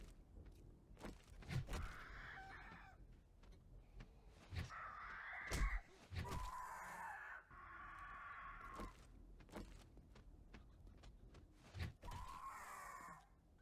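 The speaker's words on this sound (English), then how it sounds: "Another bird." Several loud, harsh caws from a bird in the survival game 7 Days to Die, repeating in irregular bursts over a faint ambient bed with occasional thumps.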